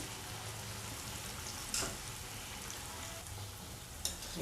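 Cabbage Manchurian fritters fry in a pan with a steady, quiet sizzle and crackle. The sound is faint and continuous, with a couple of brief louder pops or scrapes, and no one speaks.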